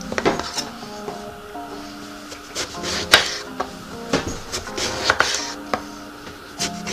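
A knife cuts vegetables on a board in a home kitchen, making sparse, irregular taps and clicks at a moderate level over a faint musical background.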